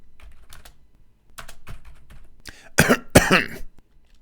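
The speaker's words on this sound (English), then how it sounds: "This typing." Light clicks of typing on a computer keyboard in a quiet room, followed by a couple of sharp, close coughs near the end, with no talking.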